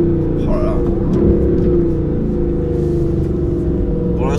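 The engine of a 2019 Aston Martin Vantage AMR with a manual gearbox hums and builds under acceleration on a wet road, a steady low drone with someone talking over it.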